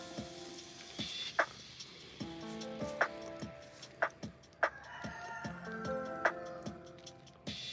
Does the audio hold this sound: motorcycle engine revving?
no